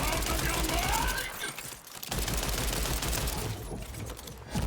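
Rapid gunfire from shooting enemies in a looter-shooter game, dense and continuous across the whole stretch with only a brief lull midway, loud and close with mechanical clatter mixed in.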